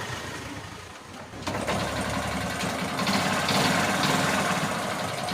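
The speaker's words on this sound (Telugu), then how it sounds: "చూసారా బండి స్టార్ట్ అయిపోయింది" Honda Glamour motorcycle with no battery starting up, a quiet low hum that jumps at the start into a steady, close idle running evenly to the end.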